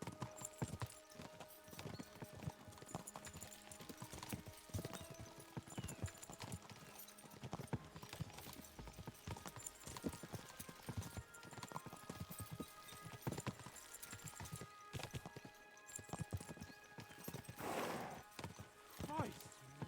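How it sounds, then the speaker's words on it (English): Galloping horses pound steadily throughout in Kingdom Come: Deliverance II, a dense rapid clatter of hooves with music and scattered game sounds layered over it. "should spur the horses on"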